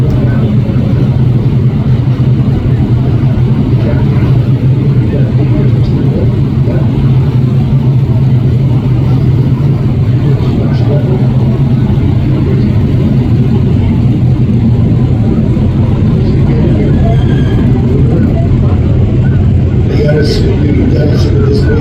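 Race car engines drone and rev at the 63rd Eastern States 200, a steady loud roar of cars on the track with a commentator talking over it the whole time.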